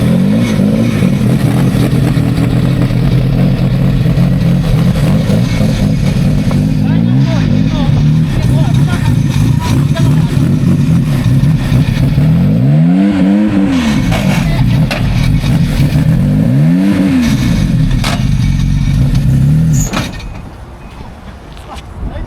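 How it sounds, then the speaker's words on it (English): Race car with a high lift cam, jump started from an external battery, idling roughly and loud with a couple of rising revs; people talk over the engine, which drops away at the end. "Because it's a race car, they need to jump start it from the exterior."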